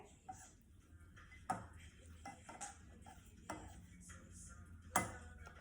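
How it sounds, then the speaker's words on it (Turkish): Slime stirred in a container, with sparse clicks and knocks of the utensil against the sides at an uneven pace, faint and close, between quiet stretches. "Böyle karıştırıyoruz"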